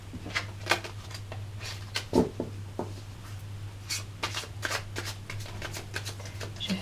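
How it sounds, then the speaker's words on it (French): Tarot cards being shuffled and cut by hand, with a steady run of soft riffling and rubbing bursts and a few sharper snaps. The sound is close and quiet, with a low steady hum underneath and no talking. "Je fais un tirage en 13 cartes."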